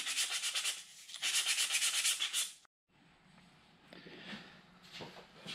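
Steady rhythmic scratchy rubbing of light sanding on a rocket fin can and body tube, close by, in strokes for a couple of seconds, then a brief pause and softer rustling handling noises.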